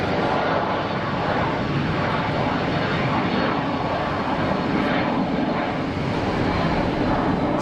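Steady broadband roar of a Cessna Citation business jet at Geneva Airport, loud and continuous throughout with no distinct events, no voices.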